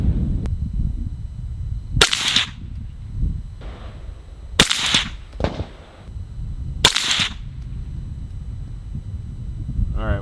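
Three sharp, loud rifle gunshots of +P 300 Blackout Spectre rounds ring out at the range, evenly spaced a couple of seconds apart, each with a brief echoing tail and quieter handling noise between.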